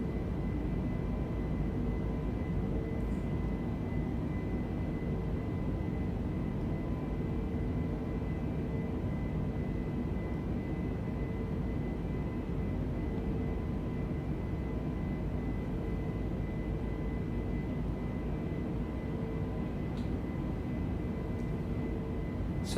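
Simulated Airbus A320 Neo climbing in Microsoft Flight Simulator 2020, TAP Air Portugal livery: a steady, even engine drone with a faint whine, continuous and unchanging, no talk.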